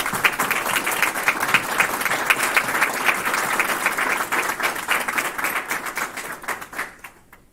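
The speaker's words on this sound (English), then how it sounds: "So please join me in a round of applause for this outstanding family members" An audience applauds at a cadet ROTC ceremony, honoring family members. The clapping is dense and sustained, then thins out and fades near the end.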